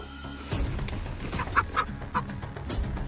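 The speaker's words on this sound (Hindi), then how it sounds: "इन मुर्गियों ने इतना शोर क्यों मचा रखा है?" Chickens in a video game cluck in a quick run of short, sharp calls over a low background noise, fairly close and moderately loud.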